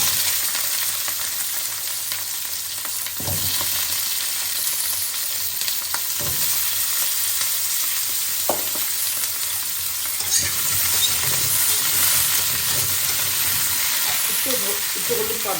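Cauliflower stalks and potato frying in a pan, a steady close sizzle with occasional stirring scrapes and clinks throughout.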